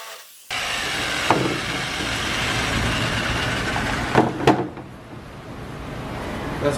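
Large sheet goods are cut on a 4-by-8-foot cutting table, giving a steady, loud rasping cut with a few sharp knocks partway through.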